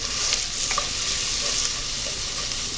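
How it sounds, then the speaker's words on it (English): Stirring in a pot of creamy white chicken chili, with a steady broad sizzle and hiss running throughout and a few soft scrapes of the spoon, no voices. "So, I'm going to give that a little stir."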